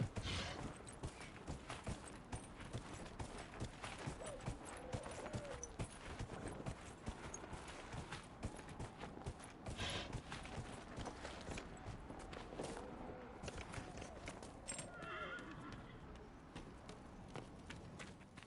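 Horse hooves clip-clop in a steady, continuous rhythm while riding in the video game Dragon Age Inquisition, fairly close and unbroken throughout.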